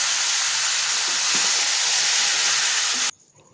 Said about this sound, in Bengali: এবার আমি নারকেলটা এই চাল কুমড়োটা ছেড়ে দিয়েছি এবার আমি নাড়াচাড়া করব